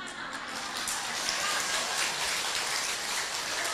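Steady dense applause from an audience at a Buddhist Dharma talk, a continuous even wash of many hands clapping at once, held at constant level throughout with no voices over it.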